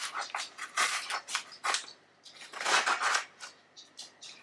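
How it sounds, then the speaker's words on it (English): Scissors snip and slice through the cardboard or packing tape of a Cricut Maker box in quick bursts, close up, with a short pause midway before more cutting. "let's open this up first of all with a pair of scissors."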